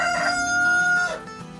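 Brahma Light chickens on a passion fruit farm, a rooster's crow rising and fading over softer clucking, fairly close and loud, with no talk.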